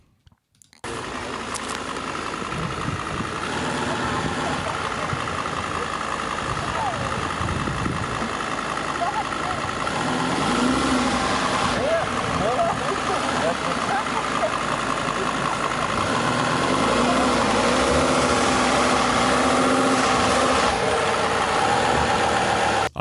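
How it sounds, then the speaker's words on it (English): A VW Touareg V10 TDI twin-turbo diesel SUV engine runs steadily with a deep, continuous rumble, fairly loud and close, holding an even note with slight swells. "It's got twin turbochargers as well. It does sound like a diesel."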